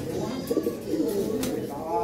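A flock of young pigeons coos close by, with soft, throaty warbling calls that swell and fade in quick succession.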